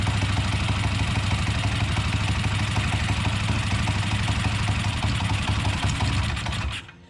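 A small engine fitted with a Tillotson 263 28 mm flat-slide carburetor idles, making a loud, steady, close running drone with faint rattling throughout, then cutting off abruptly just before the end.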